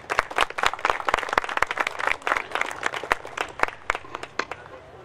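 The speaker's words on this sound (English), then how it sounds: "Ladies and gentlemen, a huge round of applause" Dense, lively audience applause at a film festival inauguration ceremony, many hands clapping together, loud and close, thinning slightly toward the end, with no speech over it.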